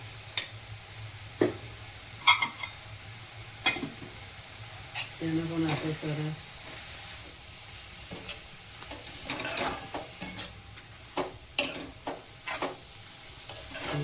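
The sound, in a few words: ghee sizzling and stirred in pan for carrot halwa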